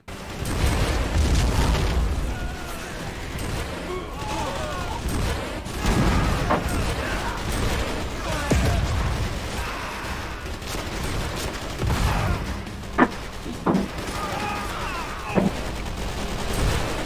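Rocket RPG guns fire during a Minecraft war, a dense, sustained barrage of blasts and booms with a few sharper cracks near the end.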